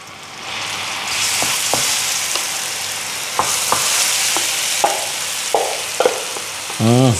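Sambal made with onion, lemongrass and salted squid fries in hot oil, a loud steady sizzle with occasional stirring knocks, and a brief voice near the end.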